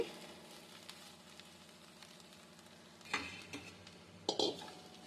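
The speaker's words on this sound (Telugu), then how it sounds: "ఉల్లికారం వేసుకొని ఇట్లా బాగా కలిసేలాగా కలబెట్టుకోవాలి" Amaranth greens frying with onion chili powder in a pan, a steady soft sizzle throughout with a couple of sharper spoon-on-pan scrapes and clinks as the mix is stirred.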